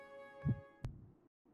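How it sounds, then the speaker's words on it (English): A heartbeat sound effect in the game Fire Emblem: Three Houses gives two soft, low thumps in quick succession over a faint sustained hum, then falls to silence. "What was that? It was like a heartbeat."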